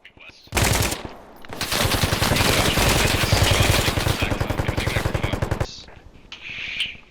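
Sustained video-game machine-gun fire laying down suppressive bursts, loud and close, rapid rhythmic shots running several seconds with a brief pause early on, then trailing off into quieter sound.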